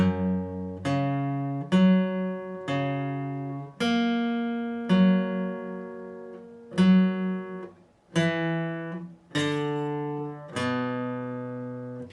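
A guitar slowly plays the intro riff of a song: about a dozen sustained, plucked notes, each ringing out before the next, clear and up close with no voices.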